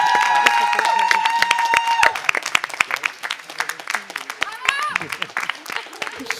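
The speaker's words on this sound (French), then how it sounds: "On applaudit bien fort l'équipe qui a gagné!" A game-show audience claps for the winning team, with a short burst of applause that fades into scattered, sparse claps. Tonal music plays over the opening and voices are heard over the later claps.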